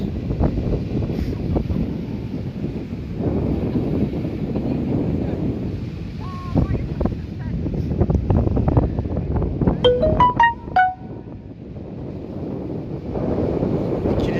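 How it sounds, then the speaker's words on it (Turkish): Steady wind buffets the microphone over a constant rumble of surf on Dikili beach, Turkey, with a few faint high chirps partway through. "öğleden sonra rüzgar çıktı. Şu anda dalga çok Dikili'de"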